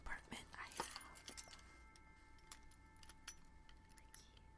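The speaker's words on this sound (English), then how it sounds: "the keys." Keys jangling as they are pulled from a purse, a few soft close metallic clinks and rattles near the start, then quieter scattered jingles, with faint whispering.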